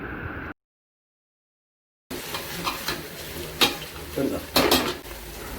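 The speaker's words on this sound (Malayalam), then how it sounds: "സോട്ട് ചെയ്തെടുക്കുക, ഒന്ന് വാട്ടിയെടുക്കണം." Onion, capsicum, green chilli and carrot sauté in a pan for chilli chicken. A brief sizzle cuts to silence, then stirring resumes with sizzling and sharp clinks of utensil on pan.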